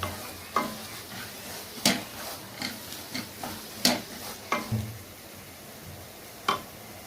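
A spoon scrapes and knocks in a pan of fish curry masala cooking over a low flame, making irregular sharp strokes every second or so over a quiet, continuous sizzle.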